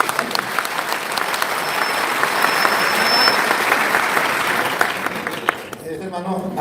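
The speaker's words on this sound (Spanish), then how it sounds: "un aplauso, bueno, un aplauso" A church congregation breaks into loud, dense applause during a tense debate between a priest and a pastor, swelling through the middle and then cutting off abruptly, with voices emerging as it ends.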